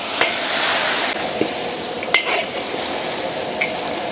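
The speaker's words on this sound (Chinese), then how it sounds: "倒入羊蝎子接着翻炒。" Lamb spine bones stir-fried in a wok with chili paste, Sichuan peppercorns and star anise give a steady close sizzle, with a few sharp scrapes and clinks of the spatula against the pan.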